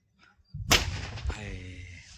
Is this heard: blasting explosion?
yes